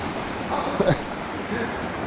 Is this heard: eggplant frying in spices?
no